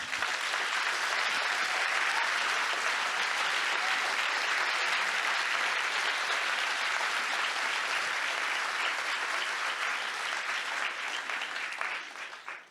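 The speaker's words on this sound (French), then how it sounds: "Ça mérite, je pense, des applaudissements." An audience at a human rights film festival gives sustained, dense applause, many hands clapping loudly and evenly for over twelve seconds before tapering off at the close.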